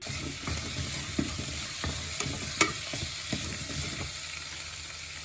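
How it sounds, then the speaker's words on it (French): Celery pieces sauté in a pan for a white purée, stirred often: a steady low sizzle with scattered scraping clicks and one sharper knock midway, close and alone. "vous faites revenir vos morceaux de céleri"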